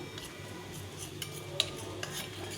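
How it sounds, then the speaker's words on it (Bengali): Cabbage curry (bandhakopir ghonto) ingredients are stirred and mixed in a pan, a close, steady swishing with light metallic clicks and ticks of the spoon against the pan. "এটাকে ভালো করে একটু গুলে নিতে হবে যেন দলা পাকানো না থাকে তা আমি এভাবে গুলে নিলাম"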